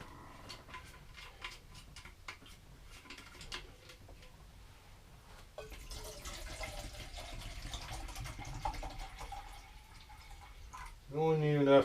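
Water is poured into a cooking pot at a spring ice-shack camp, a soft trickling splash that builds in the second half after faint clicks and taps, with a voice briefly at the end.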